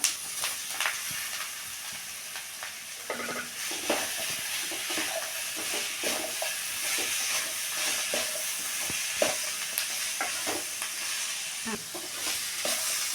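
Boiled banana stem with grated coconut sizzles in a hot pan while a spoon stirs and scrapes, sounding as close, irregular clicks and scrapes over a constant frying hiss.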